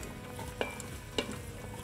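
Onions, celery and carrots sautéing in an Instant Pot give a steady, quiet sizzle, and two soft utensil taps land about half a second apart.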